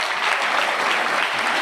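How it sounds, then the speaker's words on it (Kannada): Audience applause from a crowd, steady and dense clapping with no break, close and loud throughout. "ನಾವೆಲ್ಲ ಚಪ್ಪಾಳೆಯೊಂದಿಗೆ ಗೌರವಿಸಬೇಕು"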